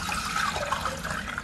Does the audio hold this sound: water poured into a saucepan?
yes